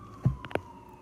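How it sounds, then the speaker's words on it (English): A faint, steady emergency vehicle siren drones in the distance through the whole moment, heard from a home right outside a hospital, with a couple of soft low thumps nearby and no talking. "there's noise in the background and sirens going off"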